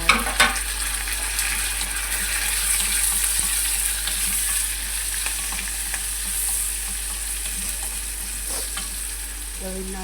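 Banana heart and chili fry in a pan with a steady, close sizzle and crackle throughout, opened by a couple of knocks from a utensil against the pan.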